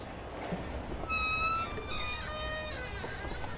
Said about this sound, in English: That's the sound of Chris Sorensen opening the metal gate to his studio